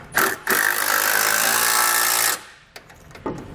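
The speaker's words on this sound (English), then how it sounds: "And then we'll tighten them down with a 15mm socket and wrench." Lock nuts on a Blue Ox base plate kit for a 2018 Jeep Grand Cherokee being run down with a 15mm socket, a loud steady power-tool whir for about two seconds, then brief metallic clicks.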